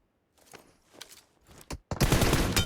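Gunfire in the PUBG Mobile battle royale game: a few scattered quieter shots and steps, then a dense, loud burst of rapid automatic fire in the final second.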